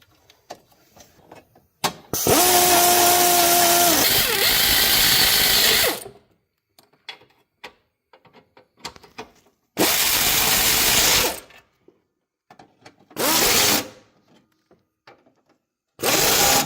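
Power tool driving the four bolts of the upper brace on a Toyota RAV4 during transmission and axle reinstall, in several loud bursts of a few seconds each, separated by quiet pauses.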